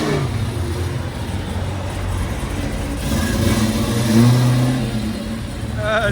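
A 1969 Yenko Camaro with a 427 V8, headers and Flowmaster 40 Series exhaust accelerates nearby, its loud throaty exhaust rising and swelling before trailing off, with no talk over it.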